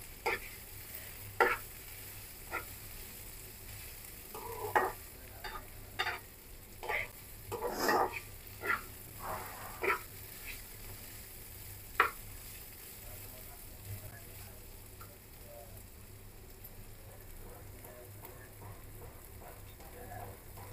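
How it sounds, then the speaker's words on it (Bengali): Dry polao rice grains rattle and scrape in a pan as they are stirred in repeated strokes over a faint background hiss, the stirring easing off toward the end. "কতটা চাল ভাজতে হবে তোমাদেরকে দেখিয়ে দিচ্ছি"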